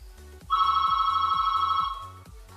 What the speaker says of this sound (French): il y a un appel là. Quelqu'un m'appelle.